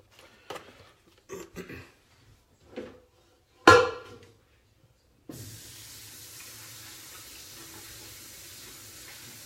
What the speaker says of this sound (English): So you just want to rinse them off with a little water to get any of the particulates and the dirt off of them